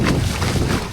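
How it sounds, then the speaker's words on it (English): Gust of wind buffets the microphone during parawing on the water in light winds of around 6 to 10 knots, a brief low rumbling rush that swells and fades within a second. "There's a gust."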